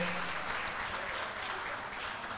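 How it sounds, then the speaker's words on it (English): An audience at the Uganda–UAE business forum applauds, a steady moderate wash of many hands clapping at an even level throughout. "another round of applause for the Executive Director, KCCA"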